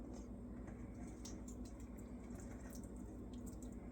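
Hot mulberry jam juice poured through cheesecloth, a steady liquid trickle and splash running continuously at close range with no talking.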